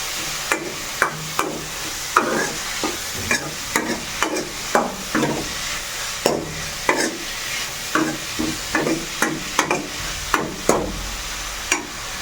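Vegetables, including broad beans, fry in a pan while a spoon stirs them in a regular rhythm of scraping knocks over a continuous sizzle; no one speaks.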